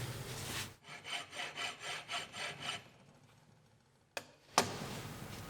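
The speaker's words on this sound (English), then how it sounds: "As I file, I want to keep filing until these shiny points sort of spread over the whole surface." A metalworking file rasped across a piece of metal clamped in a vise: about eight steady, rhythmic back-and-forth strokes, then a pause and two sharp knocks, close and clear with no talking.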